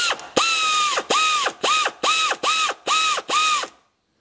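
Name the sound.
ratchet tightening a bolt on GMC Terrain engine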